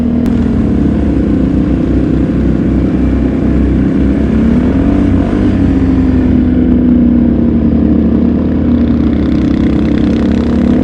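Modified Yamaha off-road vehicle fitted with a torque locker and Heim joints, its engine droning steadily and close while riding, pitch rising and falling with throttle changes throughout, no talking.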